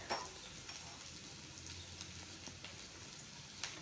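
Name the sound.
sautéing kachori filling in a pan, sizzling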